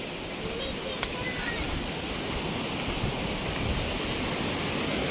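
A steady, rushing wash of a rain-swollen stream fills the scene, loud and constant, with faint voices barely audible beneath it.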